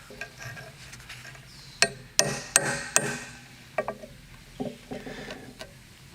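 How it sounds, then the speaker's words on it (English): A hammer drives a center punch into a gray cast iron part meant for a power hammer: four sharp, ringing metallic strikes in quick succession, then softer scattered taps and handling noise nearby. "let's use my favorite, which is the center punch test."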